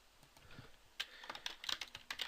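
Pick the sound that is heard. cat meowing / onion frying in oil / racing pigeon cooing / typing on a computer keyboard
typing on a computer keyboard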